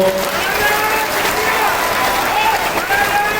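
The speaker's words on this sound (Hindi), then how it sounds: "जरा करेरा की ताली सुनाओ इनको" Clapping from the crowd at a community gathering in Karera, a continuous wash of applause with whistles and voices mixed in over the whole stretch.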